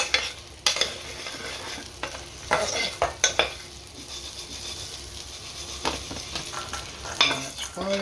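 Urid, peanuts and sultanas are tossed together for Bombay mix, with soft rustling and stirring plus scattered clinks and knocks of a spoon against the bowl, close and intermittent.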